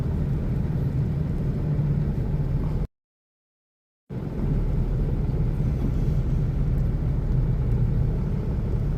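Inside a car crawling through traffic in a Colorado snowstorm, a steady low engine and road rumble drones on, broken by one abrupt silent gap of about a second before resuming.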